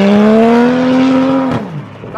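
A BMW revs hard while drifting at home, with a loud sustained engine note that climbs steadily before cutting off into a brief tire chirp and a fading rumble, close and continuous.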